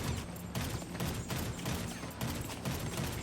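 A Marksman rifle fired again and again in GTA V: sharp shots land about every half second in a steady rhythm, each one a bright crack followed by a short echo, loud and close with no talking.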